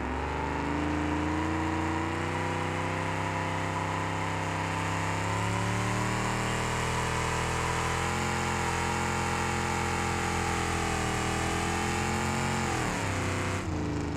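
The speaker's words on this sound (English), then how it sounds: "It is floating the valve so bad I can hear it." Car engine in BeamNG.Drive held at high revs while floating its valves, a loud continuous strained whine with wavering, unsteady harmonics that sag slightly before cutting off near the end.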